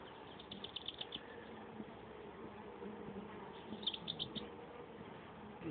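Honey bees buzz at close range around a hive in May, a low, steady hum with brief louder passes as individual insects fly near, quiet overall and free of talk.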